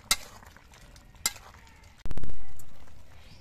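Bottle gourd curry with lentil dumplings is stirred in a pan: two sharp utensil clicks come first, then a loud, close scraping rush that slowly fades away.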